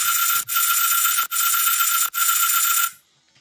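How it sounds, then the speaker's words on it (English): A frozen synth sound from Serum with effects forms a bright, sustained high shimmer, cut by three brief dropouts before it stops abruptly, leaving near silence. "it's just frozen sounds again from Serum, with a bunch of effects on them."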